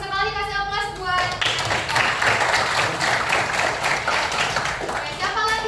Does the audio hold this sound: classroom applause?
yes